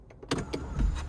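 Power sunshade on a 2025 Honda Civic Hybrid Sport sliding back under the roof with one touch, a brief close electric motor whir inside the cabin with a soft thud as it stops.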